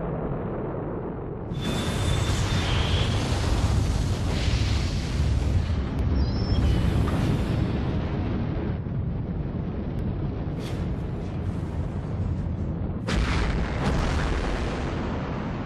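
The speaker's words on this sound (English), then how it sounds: "This is the power of a hydrogen bomb." A hydrogen bomb explosion: a huge, sustained roar that erupts after a quiet opening and rumbles on for many seconds, with a second loud surge near the end.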